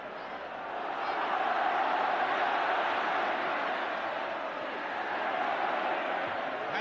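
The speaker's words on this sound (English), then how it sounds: "You should see the crowd down here now." Dense crowd roar from a packed football stadium during the second half of the Brighton v Liverpool FA Cup fourth-round match, a steady loud wall of cheering and noise swelling after the first second and holding throughout.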